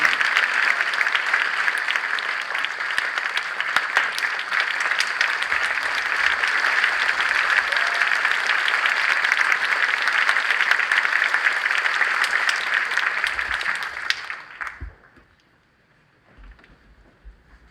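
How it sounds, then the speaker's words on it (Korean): Steady, dense applause from a large church congregation at an ordination service fills the space for several seconds, then fades out abruptly into near quiet. "박수로 축하해 주시기 바랍니다."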